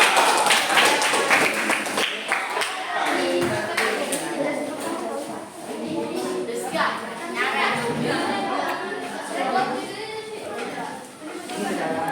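Classroom of students clapping for a second kinesthetic student group, a loud burst of dense applause that continues with uneven taps and children's chatter and a teacher's voice mixed in.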